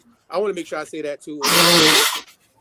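A single loud sneeze bursts out right after a man's speech, close and sharp, lasting about half a second before the talk ends.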